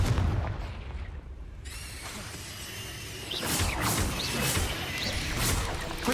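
A Confringo blasting spell in Hogwarts Legacy goes off as a loud burst followed by crackling booms and whooshes of spell combat.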